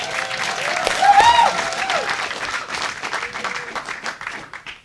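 At a live rally launch event, an audience applauds and cheers for the sponsors, with dense clapping peaking early and a few whistles and shouts rising above it before slowly thinning out.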